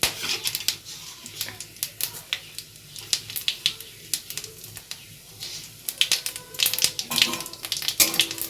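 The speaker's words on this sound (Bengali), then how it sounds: "তারপর ফোড়নে দিয়ে দেবো এলাচ লবঙ্গ আর গোলমরিচ এরপর দেব সাদা জিরে" Cardamom, cloves, peppercorns and cumin crackle in hot oil, a close steady sizzle broken by sharp irregular pops and spits throughout.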